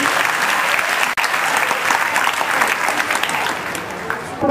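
Dense, sustained applause from an audience at a Marathi-language school gathering honoring teachers, steady and loud throughout with a brief dip early on, no voices standing out.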